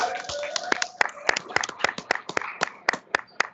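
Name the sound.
applause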